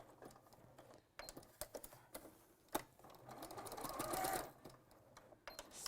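A sewing machine stitches fabric in short bursts of rapid mechanical whirring, stopping and restarting as the work is turned, then building to a longer sustained run near the end, close and clear without speech.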